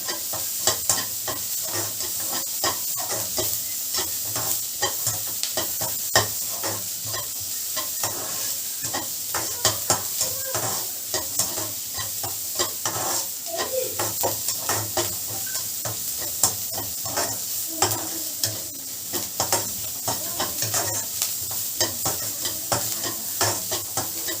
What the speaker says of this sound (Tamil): அந்த இஞ்சியும் பூண்டும் சேர்த்துட்டு அதையும் ஒரு நிமிஷத்துக்கு வந்து நல்லா ஃப்ரை பண்ணுங்கள்